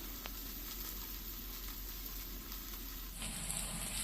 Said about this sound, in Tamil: மல்லி இலை சேர்த்து நல்லா வெங்காயத்து கூட வதக்கிக்கலாம்